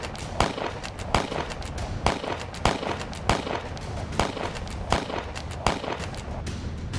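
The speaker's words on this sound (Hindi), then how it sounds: "आतंकी रह रहकर फायरिंग कर रहे हैं" Gunfire during a security forces' operation against militants in Kulgam, Kashmir: sharp single shots crack at a steady, evenly spaced rhythm, about one every second, over a constant rough background noise.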